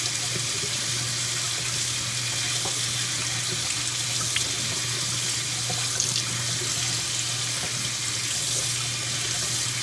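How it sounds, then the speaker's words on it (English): Low-pressure, cool, clean water runs steadily from a tap and splashes through a K&N air filter being rinsed from the inside, a close, continuous hiss and patter with a faint low hum underneath and no talking. "from the inside, low pressure, cool, clean water"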